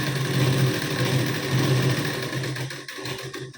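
A sewing machine stitches a double seam on a blouse, a steady close mechanical whirr with a low hum, running continuously before slowing and stopping in short bursts near the end.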